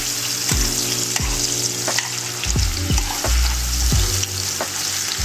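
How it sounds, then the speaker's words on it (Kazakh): Meat and onions fry in a hot pan with a loud, constant sizzle, broken by repeated scraping and stirring strokes at an uneven rhythm. "Мінекей әдемілеп осылай қуырамыз."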